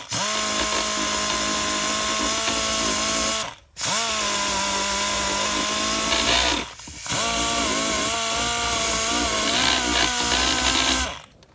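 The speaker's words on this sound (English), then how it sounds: "This is a die grinder." A die grinder whirs steadily while cleaning up a sidesaddle point repair, running loud and close in three long bursts separated by brief stops, with its pitch wavering as it bites into the work.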